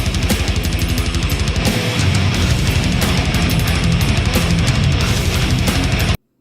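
A song opens on a dense, loud death metal guitar riff, fast tremolo-picked and driven by rapid drums, a continuous full-band wall of sound that cuts off abruptly.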